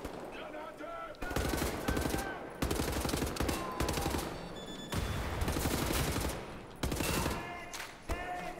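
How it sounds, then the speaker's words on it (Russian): Bursts of machine-gun fire in the first-person shooter Wolfenstein: The New Order, several loud rapid volleys separated by short quiet gaps, with faint voices underneath. "Тут, блин, бабуля тихо выстрелила. А бабуля, оказывается, громко выстрелила."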